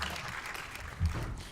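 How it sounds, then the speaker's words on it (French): Audience applause after a French conference talk at FUTURE Days 2018, a short burst of steady clapping from a hall full of people, moderately loud, with faint voices underneath. "On peut applaudir Valérie Sarny."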